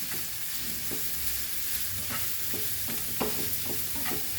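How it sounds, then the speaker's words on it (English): Chopped onions frying in a pan for Goan pork sausages give a constant close sizzle, with occasional soft stirring knocks and scrapes and no voices. "let it fry this nicely, and we'll put little bit salt to this onions."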